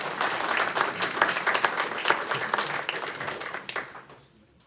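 An audience at a Rob Morris Lodge gathering applauds steadily for a few seconds to welcome a speaker, the clapping full and even before fading out at the end.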